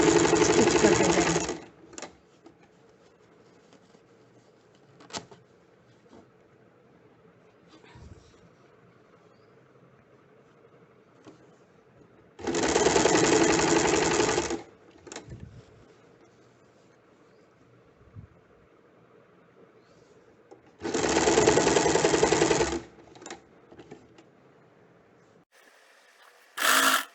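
A domestic sewing machine stitches cord piping onto a high neckline in three separate bursts of close, rapid whirring, each lasting a second or two, with quiet pauses and faint handling clicks between them.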